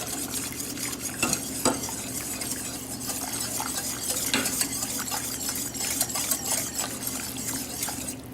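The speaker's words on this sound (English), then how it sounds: "we're continuing to stir. We want to do that until it gets to a smooth consistency and starts to thicken up" A spoon stirs keto low-carb gravy in a pan as it thickens, giving steady scraping and clinking over a constant sizzling bubble, with a few sharper clicks, close and without talking.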